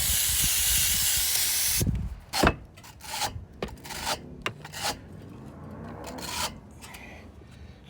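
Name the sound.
spraying condenser coil cleaner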